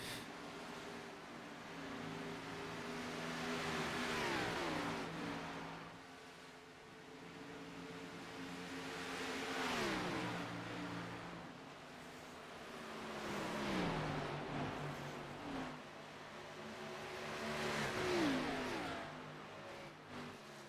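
SERL Cup race cars at Indianapolis accelerating past in repeated waves: each engine note rises and falls as a car swells close and fades, about four passes in a row, with no talk over them.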